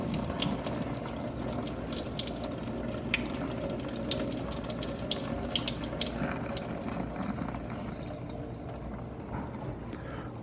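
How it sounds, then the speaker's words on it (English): Water pours steadily out of a container of fruit as it is drained by hand, a continuous splashing, trickling flow that stays close and fairly loud throughout with no talking. "I'm just going to put my hand over it and just let the water flow out."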